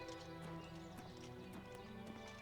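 Hooves clip-clopping in a steady, fairly close rhythm of a horse walking in a video game, with sharp periodic knocks over a continuous bed of droning background music and ambience; no voices.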